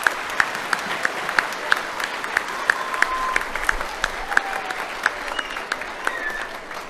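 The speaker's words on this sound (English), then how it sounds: "I'd like to give you a round of applause" An audience at a middle school Veterans Day celebration applauds, with a steady bed of clapping punctuated by sharp individual claps close by, sustained for around seven seconds.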